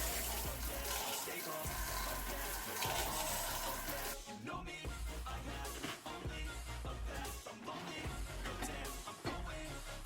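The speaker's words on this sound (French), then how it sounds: "je vais prendre une bonne douche." Shower water runs in a steady, dense hiss, with shifting splashes and a short break in texture partway through.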